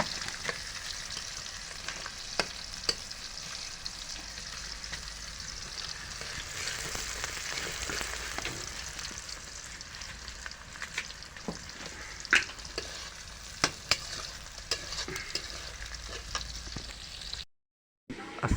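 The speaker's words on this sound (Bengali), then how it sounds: "এখন পেঁয়াজ ভাজা হচ্ছে।" Onions fry in a pan for a curry with goat meat, a steady dense sizzle and crackle running throughout with occasional sharper pops and stirring clicks, no talking, cutting out briefly near the end.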